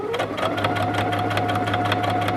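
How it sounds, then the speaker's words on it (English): A sewing machine with a blind hem foot runs a long straight stitch along a folded fabric edge, a steady, fast mechanical whirr with a rhythmic needle tick throughout. "we just want to sew a beautiful nice long straight stitch using that guide of that foot along the fold"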